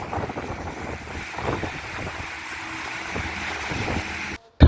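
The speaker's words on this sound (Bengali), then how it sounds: "শব্দ অবশ্যই শুনতে পাচ্ছেন, প্রচুর পরিমাণ বাতাস" Strong, cold wind blows during rainy winter weather in Saudi Arabia, a steady rushing roar buffeting the microphone, ending in a brief cut and a sharp thump.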